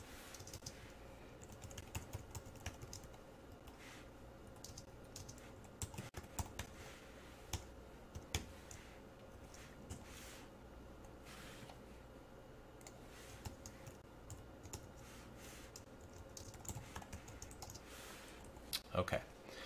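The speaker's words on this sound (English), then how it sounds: "as I'm typing this" Steady typing on a computer keyboard, quick irregular key clicks with short pauses, fairly quiet and close.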